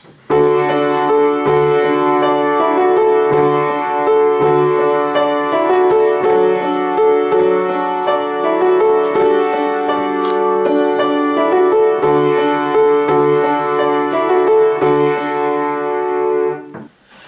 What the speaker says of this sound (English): your chorus would sound something like this for the backing track